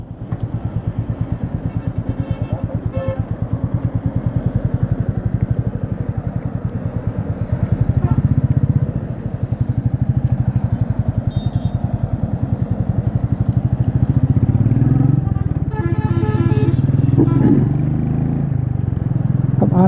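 A Royal Enfield Meteor 350 motorcycle engine drones steadily while riding, a constant low throbbing hum with some clatter, no talking.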